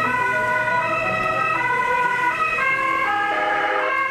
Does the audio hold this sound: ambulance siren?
yes